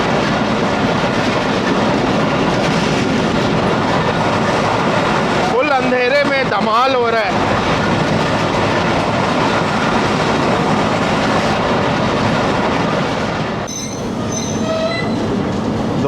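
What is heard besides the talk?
228DN shuttle train running at 105 km/h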